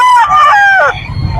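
A rooster crows once, loud and close, among chickens at the Bocaue pet market, its long rising-and-falling call followed by low crowd murmur.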